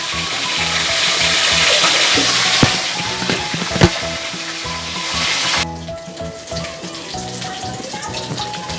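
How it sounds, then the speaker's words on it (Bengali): A rohu fish head fries crisp in hot oil, giving a loud, continuous sizzle with scattered crackles and pops as it is turned, easing to a softer fry near the end. "মাথাটাকে উল্টে পাল্টে ভালো করে করকরে করে ভেজে নিতে হবে।"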